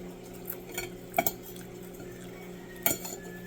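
Dishes, pots and cutlery being washed at a sink, a few sharp clinks and clatters of metal and crockery against a quiet, humming background, with gentle splashing between the knocks.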